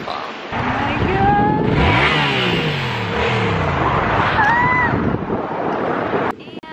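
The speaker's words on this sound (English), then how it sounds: "riding a motorcycle on the coast of Malibu is amazing" Motorcycle riding along the Malibu coast, with a loud, steady rush of engine and wind noise that rises and falls as the bike accelerates, plus brief higher tonal sweeps.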